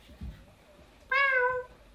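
A child imitates a cat with a single clear, high meow that rises and then falls, sounding close and moderately loud after a brief soft noise.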